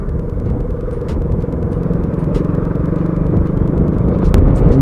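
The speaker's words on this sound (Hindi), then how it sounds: "जैसे जैसे बाइक चला रहा हूँ तब गर्मी थोड़ी कम फील होती" Steady engine drone and rumble of a motorcycle riding on a highway, loud and close with wind buffeting, rising slightly and holding even throughout, with no talking.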